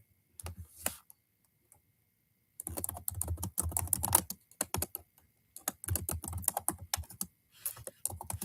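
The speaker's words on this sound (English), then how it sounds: "I'm just typing" Rapid clicking of keys on a computer keyboard, typed in quick bursts with short pauses between, close and fairly quiet; no talking.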